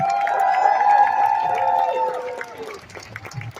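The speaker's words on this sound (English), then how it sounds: "Give another round of applause for Kirby," An outdoor rally crowd in Washington Square Park cheers and claps, led by one loud sustained voice whooping over scattered applause and crowd noise, which then trail off.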